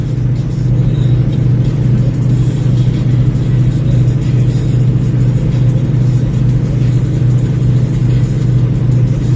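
A semi truck's engine drones loud and steady at 1,500 RPM, a constant low rumble heard from inside the cab with no change in pitch.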